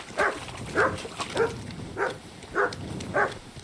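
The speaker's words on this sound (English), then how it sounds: "Good dog, Mutz." Mutz the dog in Kingdom Come: Deliverance II gives five sharp, evenly spaced barks at close range, each short and clear, with a faint whine between them.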